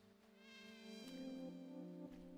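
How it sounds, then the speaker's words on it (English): Bees buzz in the Paradise Marsh video game, a faint, steady droning hum that swells slightly partway through and continues without any talk. "Bees? There's bees."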